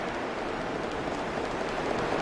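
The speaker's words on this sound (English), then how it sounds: "Oh, and it's also raining." Steady, even rainfall in the video game Xenoblade Chronicles: Future Connected, a dense wash of drops hissing at a constant level with no voices over it.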